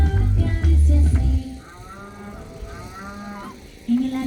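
A low sustained mooing is imitated as part of a children's song about Noah's ark, two long loud moo calls up front followed by quieter sung and instrumental sounds.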